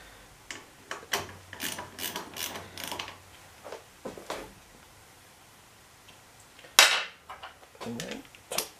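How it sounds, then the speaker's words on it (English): A ratchet wrench loosens bolts on a Triumph Speedmaster 1200 motorcycle, producing irregular bursts of sharp close clicks and ticks separated by short pauses, with a louder metallic clack near the end. "we need to loosen the main bolt here. Just loosen these off for now"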